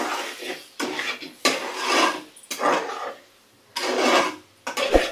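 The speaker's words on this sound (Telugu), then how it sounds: "ఒకసారి కలుపుకుందాం." Jackfruit curry, Konaseema style, being stirred in a pan: several bursts of scraping and rubbing as a spoon works through the pieces, separated by short pauses, close and fairly loud with no talking.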